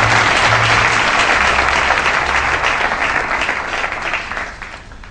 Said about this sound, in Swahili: Watu walipiga makofi namna hiyo.